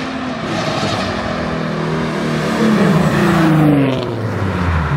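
Nissan G37 fitted with a Tomei exhaust and longtube headers roars past close by, a loud, rising-then-fading engine note that swells as the car approaches and drops away, with no talking.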